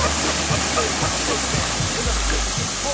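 Ice water pours out of an open pickup truck bed in a heavy, continuous gushing rush with low gurgling surges, loud and close throughout.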